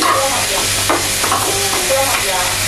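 Chopped tomatoes sizzle loudly in a hot pan while being stirred, producing a close, continuous frying crackle throughout.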